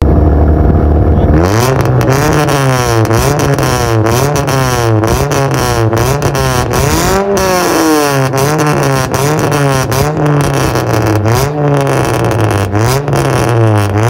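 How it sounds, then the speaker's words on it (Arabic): A modified Daewoo Lanos with an aftermarket exhaust revs repeatedly, the engine note climbing and falling in steady cycles. It is loud and close, and the throaty drone runs continuously for the whole stretch with no voices. "تعالى بقى اسمعك صوت الاكزوست ده عامل ازاي"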